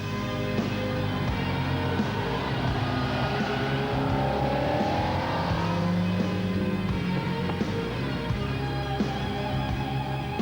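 A TVR Cerberus coupe with a 4.2-litre flat-plane-crank V8 accelerates, its loud engine note climbing in pitch as it revs, close and continuous with no voices.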